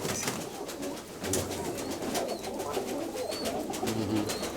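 Pigeons coo softly and repeatedly in a loft, low murmuring calls under a busy background of faint rustling and wing flutters.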